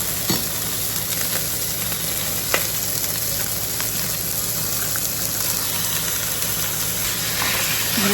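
Two pounds of ground beef frying in a pan with a few drops of sesame oil, a steady close sizzle and crackle with occasional sharp scrapes or taps as the meat is broken up, no talking.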